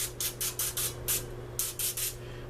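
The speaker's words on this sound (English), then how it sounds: "lightly spray the bread" Cooking spray misting slices of bread for a barbecue chicken sandwich, a run of short hissing bursts in two groups, close and fairly loud over a steady low kitchen hum.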